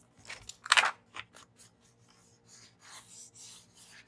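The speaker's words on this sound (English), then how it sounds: "this is just gonna remove some of the excess glue from the tape runner" A finger or tool rubs excess tape-runner glue off the edge of a paperback journal, close, dry scratchy rubbing strokes in short irregular bursts, the loudest early on.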